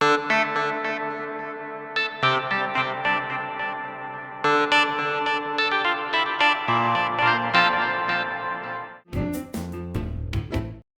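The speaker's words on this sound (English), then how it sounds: "And the delay works exactly the same." A Numa X Piano digital piano played with the delay send effect on, sustained chords ringing with repeating echoes and a wet, spacious tail, ending in a burst of short staccato notes.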